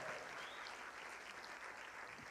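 Steady round of applause for donors at a charity auction during an awards gala, a dense crowd clapping continuously throughout at moderate level with no talk on top.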